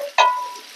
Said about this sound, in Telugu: కట్ చేసుకున్న ఉల్లిపాయ ముక్కలు వేసుకొని ఫ్రై చేసుకోవాలి.